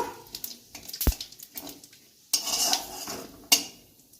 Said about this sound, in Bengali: ফোড়নটা একটু নাড়াচাড়া করে নেব।